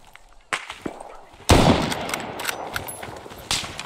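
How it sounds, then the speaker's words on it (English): Gunfire in the Vietnam War game ARMA 3 S.O.G. Prairie Fire: scattered sharp shots, one loud close crack followed by a long echoing tail and further distant pops. "he's taking pot shots at me"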